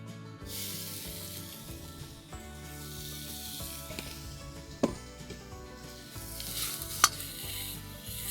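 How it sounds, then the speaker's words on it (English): Pancetta sizzles in a pan over an open fire, giving a steady, close hiss with occasional sharp pops and clinks. "So I'm going to get this pancetta in there right now."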